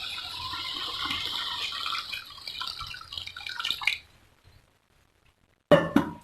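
Water is poured into a cooking pan while making Odia-style bhendi besara, a fairly loud splashing pour for about four seconds, then near silence and a brief sharp splash or clatter at the end.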